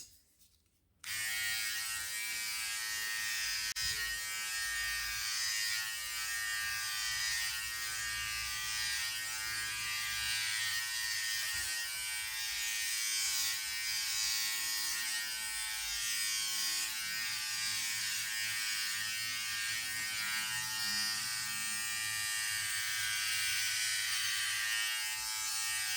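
A Philips Multigroom Series 3000 MG3720 trimmer buzzes steadily while cutting body hair, starting after a brief quiet moment and holding a dense, even electric hum, close and loud, for the rest of the time.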